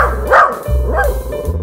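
A dog barking in the Roblox Brookhaven video game, two close, loud barks about half a second apart over a steady low electronic hum.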